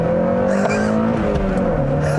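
A 1999 Honda Prelude Type SH with its high-revving VTEC engine pulls hard under full throttle, the engine note climbing steadily in pitch and then stepping as it shifts, loud and close with a voice talking over it.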